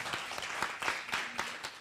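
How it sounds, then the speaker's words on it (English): Audience applause after a memoir author's talk, a short burst of scattered hand claps, moderately close and fairly quiet, with no talk over it. "let's give a round of applause to Chloé Cooper Jones."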